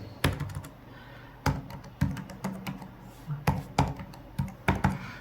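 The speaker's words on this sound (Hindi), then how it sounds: "मैं यहाँ अपना एड्रेस लिख देता हूँ।" Keys clacking on a computer keyboard as an address is typed in, with irregular bursts of close, crisp taps separated by brief pauses.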